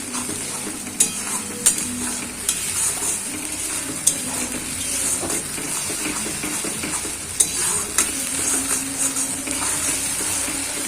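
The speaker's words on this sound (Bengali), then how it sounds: "আমি ততক্ষণ এটা ভাজা ভাজা করব যতক্ষণ রসুনের আর পেঁয়াজের কাঁচা গন্ধটা না চলে যায়।" Garlic, onion and tomato fry in oil, producing a steady, close sizzle broken by sharp clicks and scrapes of a stirring utensil against the pan.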